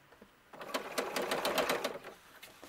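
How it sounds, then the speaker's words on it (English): A sewing machine stitches fabric for an 1892-style gown sized for an SD ball-jointed doll, starting abruptly after a quiet moment and running in a quick, even, rattling hum for under two seconds before easing off. "I'm getting ready to feed it into the machine"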